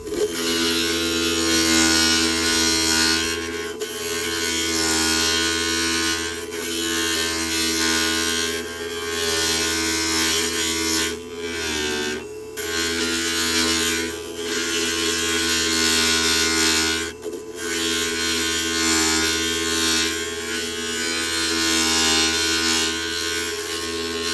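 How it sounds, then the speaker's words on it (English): Electric grinder shaping glass mosaic pieces for a mirrored star project, a steady loud buzzing whine running almost continuously with a few brief dips and pauses, no voices. "I'm gonna go and grind this now."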